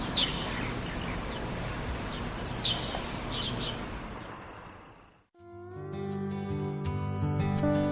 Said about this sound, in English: It's so peaceful. I can hear the birds singing.